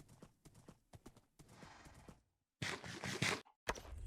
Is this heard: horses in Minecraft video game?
yes